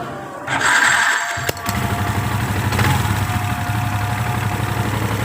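A Yamaha Vixion motorcycle engine, rough-sounding with a loose valve, starts with a brief crank, then idles loudly and steadily close by.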